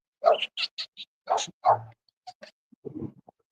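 Dogs bark excitedly at someone in a Batman costume and cape, a rapid burst of close, sharp barks with short whimpers between them, then a quieter run of yips.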